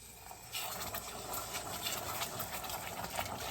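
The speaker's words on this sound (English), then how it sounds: "at this point I add the cream, the heavy cream" Heavy cream at 35% fat is poured into a pot of melted butter for caramel, a soft steady gushing pour that begins half a second in and runs on quietly.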